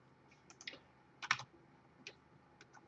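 A handful of quiet, close keystrokes on a computer keyboard come in short bursts, with one quick cluster of taps in the middle, as numbers are typed into a spreadsheet and no one speaks.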